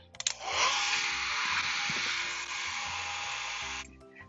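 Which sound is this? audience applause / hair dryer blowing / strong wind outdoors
hair dryer blowing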